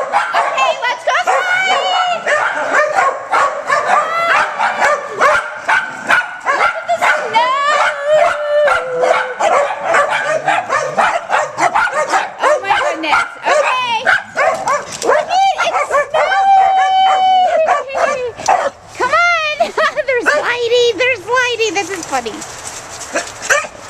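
Dogs yip, whimper and bark excitedly in short bursts close by at the first snow of the season, mixed with constant chatter from a person talking over them throughout.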